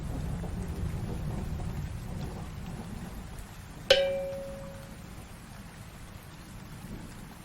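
Rain falls on a rainy night as a steady, soft wash of patter. Partway through, one sharp ringing strike cuts in and fades slowly.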